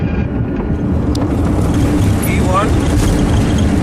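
Jet engines roar loud and steady in the cockpit of a 46-year-old DC-9/MD-80 during its takeoff run, a broad rushing drone with brief faint tones over it.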